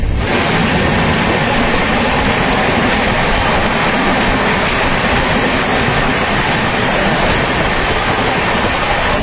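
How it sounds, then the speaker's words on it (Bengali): The Darjeeling Mail express train running at high speed, a loud, constant roar of wheels and rushing wind with dense rattling from the coaches, heard close up and unbroken for the whole stretch. "ব্যাপক টানছে ট্রেনটা"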